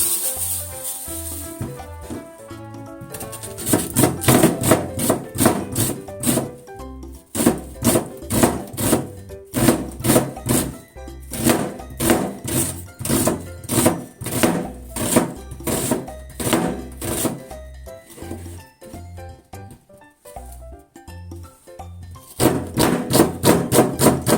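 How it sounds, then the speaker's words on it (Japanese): A kitchen knife thinly slices half an onion on a cutting board, giving a long run of quick, close, crisp chops in an even rhythm with a few short pauses. "その間に玉ねぎ半分薄切りしておきます。"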